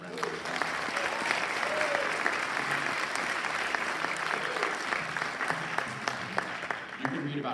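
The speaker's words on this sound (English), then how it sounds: "Let's give him a round of applause." Audience at a high school fall concert giving a guest performer a long round of applause, steady and full-bodied clapping with a few louder individual claps and faint voices murmuring underneath.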